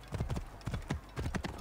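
Horse hooves clip-clop in Assassin's Creed Origins, a steady trotting rhythm of clustered thuds in three bursts, close and clear with no talk.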